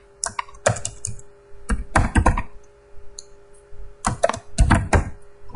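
Typing on a computer keyboard while writing an SQL query: close, crisp bursts of rapid key clicks in several clusters, separated by short pauses, with a faint steady hum beneath.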